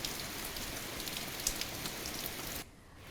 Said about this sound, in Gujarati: પોરબંદરના ગ્રામ્ય વિસ્તારોમાં પણ આજે વહેલી સવારથી જ હળવો વરસાદ વરસી રહ્યો છે